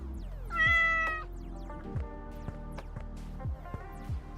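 Cat in a retro game store giving one drawn-out meow up close, then softer short mews and background clatter, with a low hum underneath.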